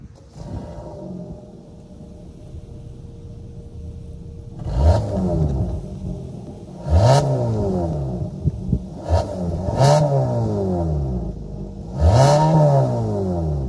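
A 2023 Kia Sportage LX with a 2.5 liter naturally aspirated four-cylinder starts up and then revs several times, each blip rising and falling loudly and close, with a steady idle between the revs.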